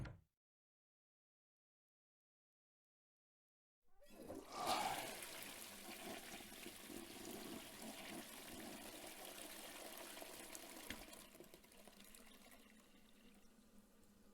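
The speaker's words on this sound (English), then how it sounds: "Is that the sound of the toilet flushing?" A toilet flushes in the video game Chaos;Child, a loud rushing gush of water that starts after about four seconds of silence and runs steadily for roughly ten seconds before easing off.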